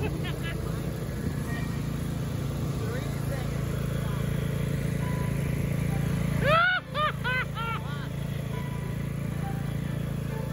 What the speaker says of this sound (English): Turn the mower off!